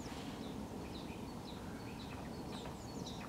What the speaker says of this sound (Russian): Птички поют, весна чувствуется.